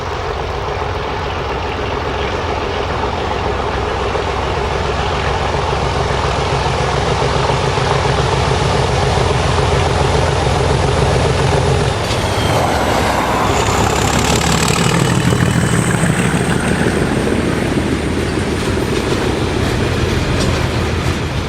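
Two Class 37 diesel locomotives, 37 423 and 409, run through Kingswood in June 2013. They make a loud sustained engine roar with rhythmic wheel clatter, and the engine tone shifts partway as they pass close by.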